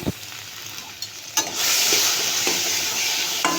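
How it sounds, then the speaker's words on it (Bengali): Grated soybean with chili powder sizzles and is stirred in a hot pan, a steady close frying hiss that swells and stays loud, broken by occasional scraping strokes of the spatula. "দিয়ে এটাকে ভালো করে কষিয়ে নেব আমি গ্রেট করা সয়াবিনটাকে"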